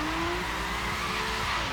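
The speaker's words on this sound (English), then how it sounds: "See how much the wheels spin once we drive off." A 1973 Nissan Skyline GT-R in a racing game spinning its rear wheels as it drives off, a loud continuous screech of tyres over a roaring engine whose pitch shifts as it goes, with no talk.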